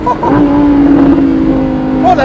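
A Lamborghini Huracan engine holds a steady loud drone near and close, with a slight rise toward the end, while people react excitedly over it.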